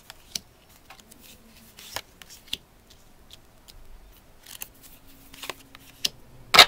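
Tarot cards are shuffled and laid out for a cross spread, heard as quiet, sparse snaps and soft card slaps with a sharper flick at the end.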